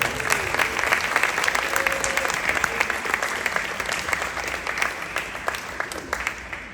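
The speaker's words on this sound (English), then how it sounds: "let's give them a round of applause" Audience applause at a high school sports ring ceremony, dense and lively clapping from a crowd close by, steady and loud throughout with a few sharper claps and brief voices mixed in.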